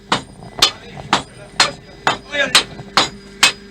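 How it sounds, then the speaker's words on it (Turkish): A blacksmith hammers metal in a steady rhythm in a workshop in Safranbolu, Turkey, eight or so sharp clanging strikes about half a second apart, close and loud. "Bir tane açık bir demirci bulduk. Ee, çekiç sesleriyle birlikte"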